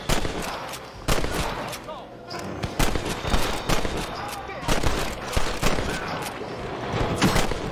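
Gunfire in Red Dead Redemption as enemies on a cliff shoot down: sharp, loud shots cracking in irregular bursts over about eight seconds, with echoing tails and some shouting voices mixed in.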